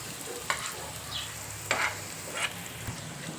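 Stuffed bitter gourds fry in spiced masala in a pan with a continuous soft sizzle, broken by a few sharp scraping stirs of a spatula.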